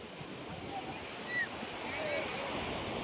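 Ocean waves wash steadily onto a beach in Pondicherry, a continuous broad hiss of surf mixed with wind noise that swells slightly partway through.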